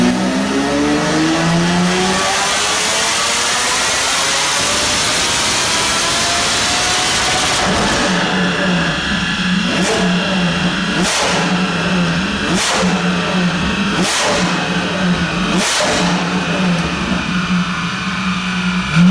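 A Lamborghini Diablo V12 engine climbs steadily in pitch as it revs hard, then settles into a loud, rough drone with repeated rhythmic surges.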